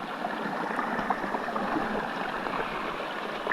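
Steady, close rushing and babbling of a small stream flowing through a Nepali forest, continuous and fairly quiet with no voices.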